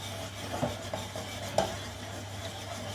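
Melted Lindor chocolate balls swirled around in a pan, giving quiet soft scraping and sloshing with a few faint clinks of utensil on metal, fairly close and without talk.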